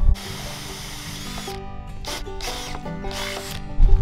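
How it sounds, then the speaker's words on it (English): A power drill whines steadily as it bores a hole for outdoor pathway lighting, then speeds up in short bursts with a high rasping edge before stopping. "We will start with a couple of pilot holes and then move on to a bigger drill bit."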